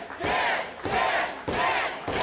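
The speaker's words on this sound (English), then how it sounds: "The crowd showing respect to Dan Barry." A wrestling arena crowd roars and cheers after a match, the loud, dense shouting surging in three swelling waves with brief dips between them.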